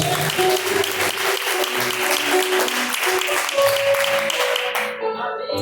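A church congregation claps in praise, dense sustained applause filling the room, with faint voices and tonal music underneath before the clapping suddenly drops away near the end.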